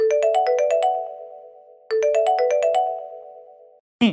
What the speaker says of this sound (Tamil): உங்க போன் அடிக்குது பாருங்க